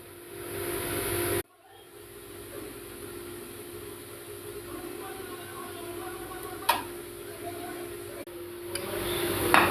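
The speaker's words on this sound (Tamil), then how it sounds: "குழம்பு விசில் வந்து எடுத்துட்டேங்க." A pressure cooker cooking chicken curry, letting out a steady hiss of steam with a few brief sharp bursts, heard close and continuous without talking.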